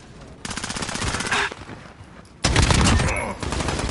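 Full-auto AK-47 fire in a video game comes in two loud, rapid bursts of shots, the second more intense, with a short pause between them.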